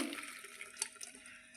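Red, muddy water drains off steamed wild amaranth greens, giving a brief, faint splash and pour of liquid close by.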